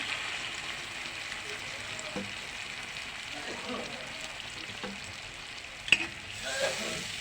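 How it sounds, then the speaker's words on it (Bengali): Milk poured into chicken korma in a hot pan sets off a steady, soft sizzle and frying hiss that runs the whole time, with a few faint stirring knocks and one sharp clink near the end. "এক কাপ দুধ দিয়ে দিলাম"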